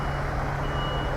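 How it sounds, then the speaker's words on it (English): A truck delivering fencing near the White House and Lafayette Park at night sounds a steady reversing beep over a constant low engine rumble and street background, moderately close. "I think that means this truck can pull out of here."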